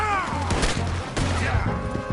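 Gunfire from Red Dead Redemption 2 with a couple of sharp shots cracking through a busy game mix, music and background tones, with a voice briefly present.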